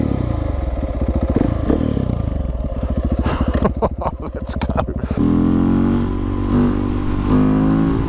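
A KTM 690 SMC R supermoto motorcycle pulls away on the road and accelerates hard, its single-cylinder engine revving loud and close with rising pitch and gear changes, someone briefly speaking at the start.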